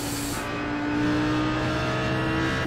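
An Audi R8 GT3 engine in the iRacing sim at Mosport pulls steadily under throttle, a loud, continuous rising drone with no voices over it.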